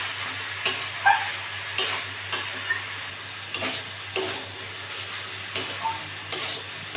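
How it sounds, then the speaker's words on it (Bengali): Banana flower and prawns stirred and fried in a pan, a soft steady sizzle under repeated scraping strokes of a spatula at a slow, regular rhythm, close and moderately quiet, with no talking. "এটা নেড়ে চেড়ে নেবো"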